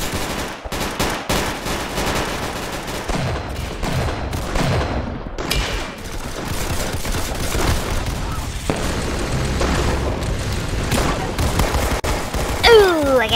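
Rapid gunfire from the video game Arsenal crackles through the clip in dense, repeated bursts of shots with booming impacts, loud and almost continuous, with brief gaps between volleys.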